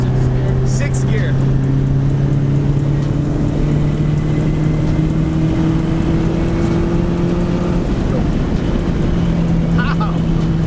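A turbocharged K20-swapped 1996 Honda Civic hatchback accelerating hard in sixth gear, its steady rising drone loud under heavy wind rush, recorded from inside the car.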